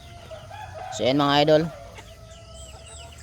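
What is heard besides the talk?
pet chickens clucking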